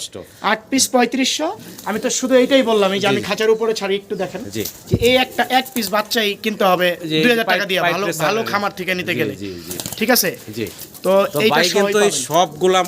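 Pigeons coo in low, throaty bursts, with voices talking over them almost the whole time.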